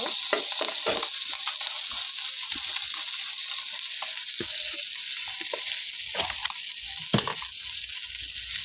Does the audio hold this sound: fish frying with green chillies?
yes